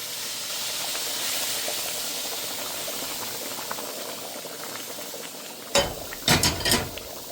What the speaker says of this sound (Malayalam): തിളച്ച് മറിയുന്ന വെള്ളം നമ്മളിനി ഇവിടെ റേവയിലോട്ട് ഒഴിച്ചു കൊടുക്കാം